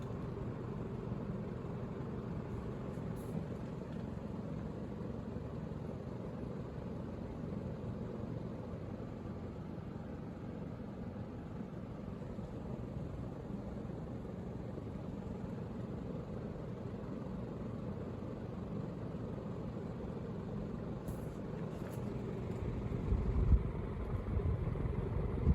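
A large fan driven by a 42-inch motor with tiny blades runs on high inside a historic theatre turned church, giving a steady, even whoosh and hum that holds unchanged throughout with no speech.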